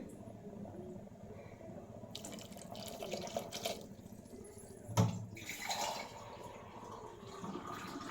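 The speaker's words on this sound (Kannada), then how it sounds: "ಈಗ ಇದಕ್ಕೆ ನೀರು ಹಾಕೊಳ್ಳೋಣ ಸಾಂಬಾರು ಅಳತೆಗೆ." Water pours into a pot of ridge gourd sambar, a faint continuous splashing trickle with a brief louder splash midway, heard close and alone.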